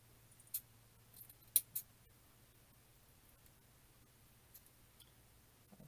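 Scissors snip through UITC tree board while cutting another piece for a handmade gnome, giving a few sharp, quiet clicks spread over several seconds in a hushed room, with a faint low hum underneath.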